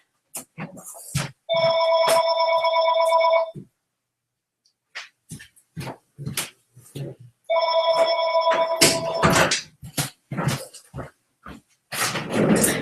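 A telephone rings twice in a classroom, two loud electronic bursts separated by a pause, with people talking and shuffling around them.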